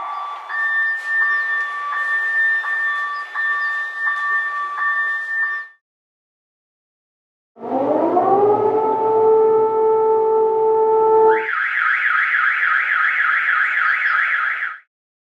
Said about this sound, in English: So first we have the alarms.